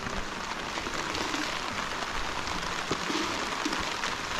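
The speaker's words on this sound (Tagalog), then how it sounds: "Ulan na, Ik." Steady rain falling on a surface in a rural farm setting, a dense, even hiss of drops throughout with a few louder close taps, no voices.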